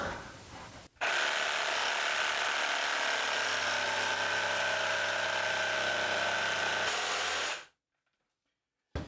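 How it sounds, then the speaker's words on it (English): A jigsaw cuts the outline of a wooden serving tray, a loud, steady buzzing whine that starts abruptly, runs for about seven seconds close up and then stops into silence. "And now we're just going to connect the dots with the jigsaw."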